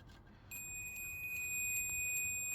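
A multimeter continuity tester gives a steady high-pitched electronic beep that starts abruptly and holds continuously, a thin tone over quiet background.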